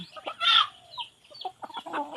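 Chickens cluck close by in short, irregular bursts, with a few sharper squawks mixed in.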